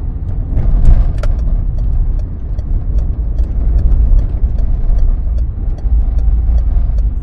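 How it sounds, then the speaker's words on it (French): A car accelerating hard from a traffic light and shifting into third gear, its engine roaring loud and close with a steady rumbling drone under the driver's voice. "j'accélère un bon coup et je passe au troisième"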